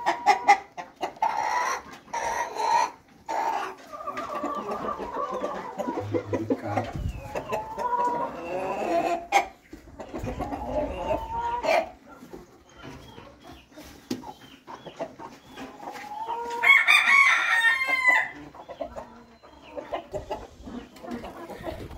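Hens cluck in short scattered bursts, with a brief rooster crow near the end; the sounds are close and moderately loud, with a few soft sounds in between.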